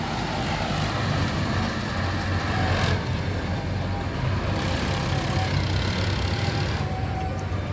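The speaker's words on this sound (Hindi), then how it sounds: "ये अर्जुन आ रहा है, अर्जुन 555 पूरा लोड लेके।" Mahindra Arjun 555 tractor engine straining under a full load at a mill, a loud, steady low rumble that holds throughout with no pauses and no talk.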